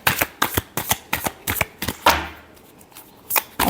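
A deck of tarot cards is shuffled close by in quick rhythmic riffles, about a dozen brisk bursts, then a short pause and a few more, with no talking.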